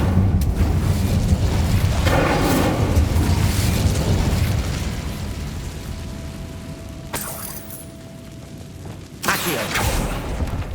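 Incendio fire spell in Hogwarts Legacy on PS5, a loud sustained fiery rumble with bursting booms, easing off midway before a sharp crack and renewed roar near the end, with game effects layered over it.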